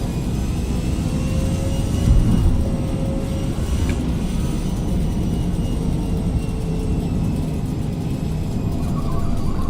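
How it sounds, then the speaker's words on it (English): Car road noise in the racing game Forza Motorsport: a continuous, loud low rumble and whir of tires and engine, steady throughout with no voices. "So much road noise in this game"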